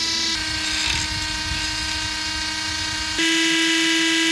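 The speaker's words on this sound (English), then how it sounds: "I'll then be carving it out using a Dremel" A Dremel rotary tool carves a hinge recess into a small DIY jewellery case, a steady high-pitched whine that keeps running without a break and jumps slightly in pitch and loudness near the end.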